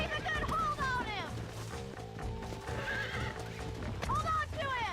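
A horse in Red Dead Redemption neighs loudly and repeatedly, with shrill whinnies rising and falling, over close clip-clopping hooves and jingling tack. Someone talks quietly underneath.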